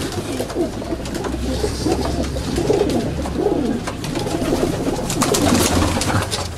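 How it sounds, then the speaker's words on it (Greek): Pigeons coo steadily in soft, overlapping low calls, close by, with a few flutters and light background rustle; no one speaks. "Δηλαδή είναι πιο όμορφα τα περιστέρια και καταφθάνουν συνέχεια"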